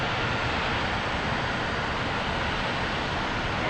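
Twin jet engines of a MiG-19P in the DCS flight simulator warming up at 10,000 RPM, a dense, steady, roaring hiss that holds loud and unchanging throughout.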